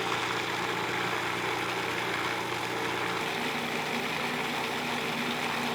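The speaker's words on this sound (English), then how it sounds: "so we got to keep blending, processing, food processing." A food processor grinds unsoaked cashews for a vegan elote flatbread topping, a loud continuous motor whir that holds steady throughout with a slight pitch change midway.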